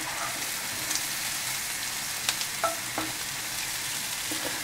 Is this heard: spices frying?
yes